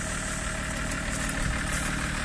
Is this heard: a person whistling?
no